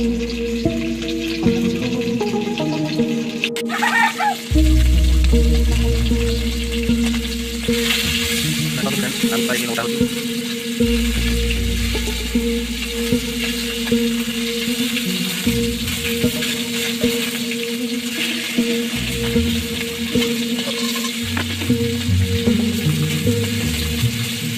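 Desi shaula fish fry in oil in a pan with a steady, close sizzle that continues throughout, alongside other kitchen sounds and music.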